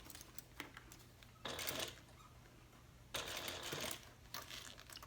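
Sewing machine stitching a recessed zipper on a handbag, quiet clicks and taps between two bursts of rapid, whirring stitching, the second burst longer, all faint and close.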